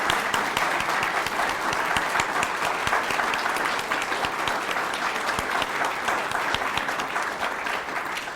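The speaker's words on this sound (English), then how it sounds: "may I ask for a big round of applause for the GPA team, for the tireless working people" Sustained applause from an audience at a humanitarian energy conference closing session, dense even clapping filling the room steadily for the whole stretch without a break.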